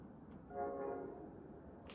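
A distant train rolls past and its horn sounds in a sustained tone over a low rumble. The sound is faint and far off, with no talking.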